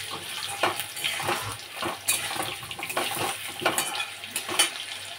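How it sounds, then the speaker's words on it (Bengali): Potatoes get stirred while frying in a pan for a papaya dish, giving a dense continuous sizzle with a watery hiss and rhythmic scraping swells as the spoon turns them, close and fairly loud. "এবার আলুটা একটু নাড়াচাড়া করে নিই।"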